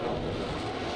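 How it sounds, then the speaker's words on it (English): A jet aircraft roaring overhead in a video game, a broad loud rushing drone that holds steady and close for the whole moment. "Jet."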